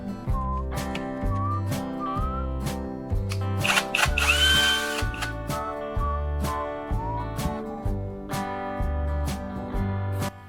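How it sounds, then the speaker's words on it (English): A power drill fitted with a knife-sharpening tool whirs steadily with a high, tonal motor whine, rising briefly louder midway before settling back into an even spin. "Once the drill starts spinning,"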